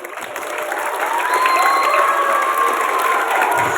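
Crowd applause fills a school flag ceremony for National Education Day at SDN Cihideung Ilir 04, clapping swelling from a modest start into a steady, dense roar with some cheering, alongside a faint sustained tone.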